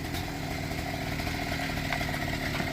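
A mini bike's small engine runs hard with a raspy, angry chainsaw-like snarl, steady and close throughout, with no talking.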